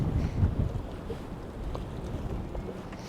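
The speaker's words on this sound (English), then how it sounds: "Sorry about that wind" Strong gusts buffet the microphone on the Mississippi River during a windy fall day of walleye and sauger fishing by boat, a continuous low rumble with heavier bursts at the start and no voices.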